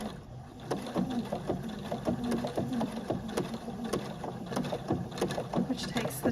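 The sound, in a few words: sewing machine back stitching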